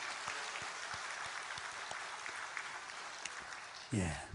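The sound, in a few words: congregation applause welcoming newcomers in church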